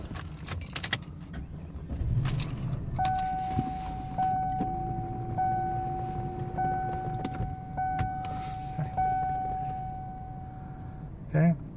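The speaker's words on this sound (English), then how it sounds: "Start the car up." A 2001 Cadillac Eldorado ESC is started with its original gold key: keys jangle, then a series of steady electronic chime tones sounds inside the car over a low background rumble, with some talking.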